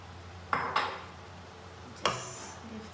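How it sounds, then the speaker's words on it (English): Creamy fusilli is mixed in a pan with sardine sauce, producing a few quiet metallic clinks of a utensil against the pan, spaced apart over a soft, otherwise still background. "Just give them a nice mix."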